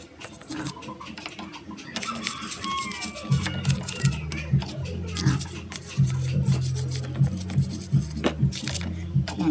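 A motorcycle engine being scrubbed with a brush and cleaner, giving a rapid, rhythmic rasping scrub that grows stronger midway and repeats steadily, with someone talking over it.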